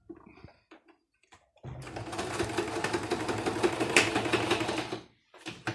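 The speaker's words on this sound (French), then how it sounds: "je vais coudre ici et ici, 2 petites coutures, avec un aller-retour" A sewing machine stitches seams on a fabric face mask, running in one steady, rapid mechanical burst of about three seconds, with a few quiet handling clicks before and after.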